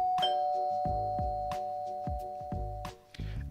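A doorbell rings repeatedly indoors in a series of bright ding-dong chimes, about seven strikes spread evenly over a few seconds, clear and moderately loud with no talk.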